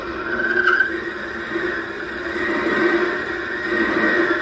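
A steady high-pitched squeal of a lathe cutting tool on a spinning wooden spinner being turned, continuous and fairly loud throughout with a slight pitch wobble, no voices.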